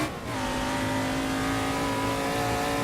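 A race car accelerating around a circuit, its engine a steady, close, continuous drone that holds a high note throughout.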